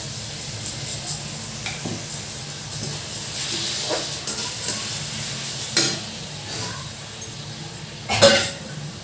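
Tomatoes dropped into a hot pan raise a hissing sizzle broken by stirring scrapes and clatter, with a louder burst near the end.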